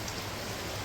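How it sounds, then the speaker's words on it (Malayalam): Heavy rain falls in a steady, dense hiss with no pauses, close and even, with no talk over it. "നല്ല മഴയാണ്."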